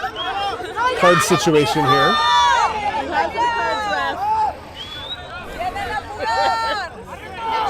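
A crowd at a men's college soccer match between Justice University and Bethesda University jeers and shouts at a player, a noisy babble of voices with whistles and calls, while a commentator talks over it.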